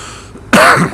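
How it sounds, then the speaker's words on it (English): One sharp cough bursts out after a brief quiet moment, close and loud, with a rough throaty edge. "sorry about the coughing, but had a flu jab yesterday"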